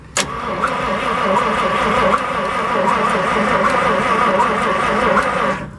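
A work truck's engine cranks steadily for about five seconds without catching, a loud, continuous churning drone that starts and stops abruptly, close up with no voices.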